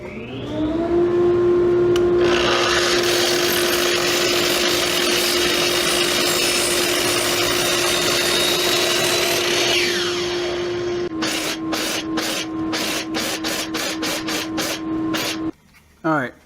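A power tool blade cuts steadily through wood, throwing off dust and large chips, with a loud sustained whine that shifts pitch partway through and then breaks into sharp, rapid bursts before stopping.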